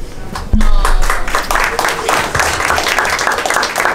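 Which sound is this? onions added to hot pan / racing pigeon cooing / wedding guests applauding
wedding guests applauding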